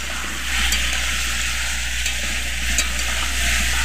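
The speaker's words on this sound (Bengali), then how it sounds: "ভালোভাবে নুন হলুদটা সবজির সাথে মিশিয়ে নেব।" Mixed vegetables tossed with salt and turmeric in a pan, producing a steady, close frying hiss with soft scraping stirs throughout and no talking.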